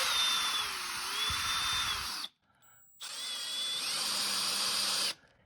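A cordless drill with a bit bores into a Proline aluminum RC wheel for an SCX6 crawler. It runs as two close, high-pitched whining bursts of about two seconds each, split by a short pause.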